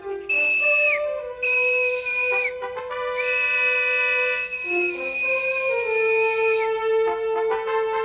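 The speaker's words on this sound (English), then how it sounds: "I'll whistle. They'll hear it if they're not too far away." A cartoon gnome whistles to call others, sending out loud, sustained notes that rise and fall in a clear melodic line, heard alone.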